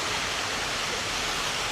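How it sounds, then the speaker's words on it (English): Water fountain splashing outdoors, a steady broadband rush of falling water, loud and unbroken for the whole stretch, with no voices. "How gorgeous is this water fountain?"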